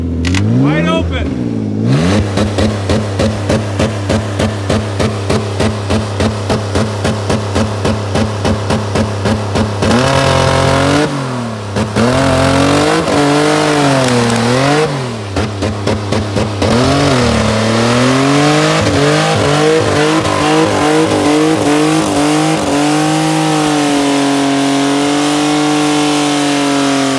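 A Ford Escape engine held at wide open throttle in a destruction run, a loud, strained, sustained roar with rising and falling pitch and brief dips, close and continuous.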